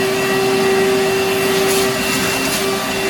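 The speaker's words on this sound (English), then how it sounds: "I will be vacuuming some areas here. To begin with, I'm gonna turn this whole thing on." A shop vacuum fitted with a homemade cyclone separator runs steadily and loudly in a garage, a constant roaring whoosh with a sustained motor hum and no voices.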